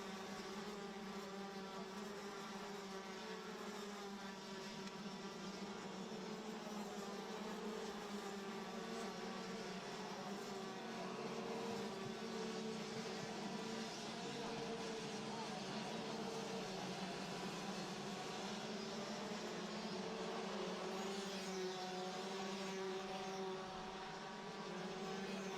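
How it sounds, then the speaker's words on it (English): Engines of DD2 and DD2 Master racing karts in a final roar across the start-finish line under the light gantry, a sustained, droning whine that swells and fades as they pass, heard without voices. "Wonderful hearing these engines roar across the start-finish line just underneath the gantry where the lights are."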